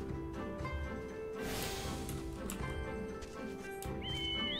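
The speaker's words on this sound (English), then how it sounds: "Ah, horses, of course." Horses in the video game Final Fantasy XIV neigh and whinny while hooves clip-clop steadily, set over soft game ambience and music.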